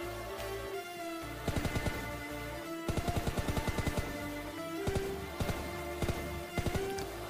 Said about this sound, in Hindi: तभी इस साइड से मेरे को एक गन की साउंड आता है और यहाँ पे दो बॉट जो आपस पर फायर कर रहा था